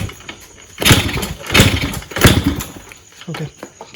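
A freshly rebuilt Yamaha RXZ two-stroke motorcycle engine, not yet tuned, revs in three loud surges between rougher, lumpy idling, close to the microphone.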